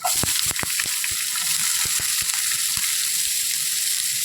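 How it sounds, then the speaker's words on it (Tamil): Chopped onions fry in oil with chana dal and urad dal, giving a steady close sizzle with scattered crackles and pops. "பொடியாக நறுக்கி வச்ச வெங்காயத்தை அதை கூட சேர்த்துக்குவோம்."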